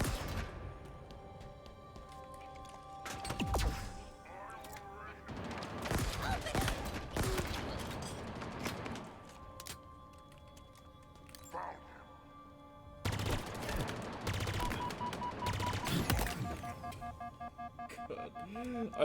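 A plasma rifle in Halo Infinite fires during a boss fight in several rapid, crackling bursts separated by short pauses, loud and close, with other game effects ringing between volleys.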